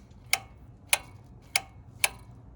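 Honda Trail125 (CT125) throttle butterfly valve snapping against its stop, four sharp, bright clicks spaced about half a second apart, close and fairly quiet over a faint background hum.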